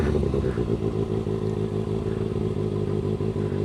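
A motorcycle engine runs loud and steady during a clutch-up attempt, a continuous close drone with a rough, clattering edge that holds at roughly even revs throughout.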